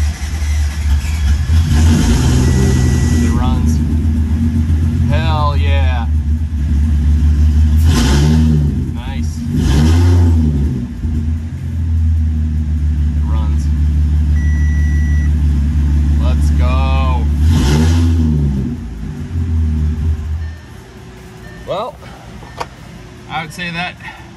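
An Audi B8 S4 drift car with an upgraded fuel pump runs on its first start after the build, idling loudly with several sharp revving blips before the engine cuts off near the end. Voices are heard over it.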